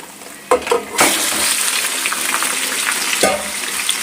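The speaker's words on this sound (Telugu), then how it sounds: "మనం ముందుగా అన్నీ కలిపి మ్యారినేట్ చేసుకున్న చికెన్ మొత్తం ఇప్పుడు దాంట్లో వేసేయాలా" Marinated chicken tipped into a hot pan of browned onions for a Hyderabadi-style curry, with a loud burst of sizzling followed by steady frying and a few stirring scrapes, close up.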